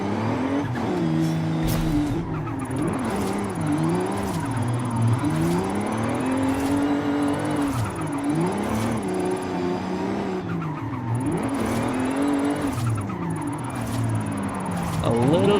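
Car engine revving steadily with tire squeal while drifting in the racing game Forza Horizon 5, a Knight Rider car driven from the cockpit view with a Fanatec ClubSport RS steering wheel; the engine note rises and falls continuously, with someone talking over it.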